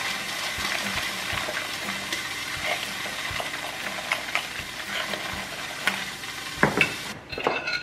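Chopped onions are stirred into an egg mixture for a spinach and feta quiche, a continuous wet swishing and scraping with soft clinks of utensil against the bowl, close and steady.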